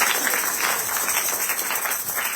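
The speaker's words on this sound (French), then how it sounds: "Est-ce qu'on peut applaudir pour la gloire?" A church congregation claps together in a dense, sustained round of applause that fills the room and holds at an even level throughout.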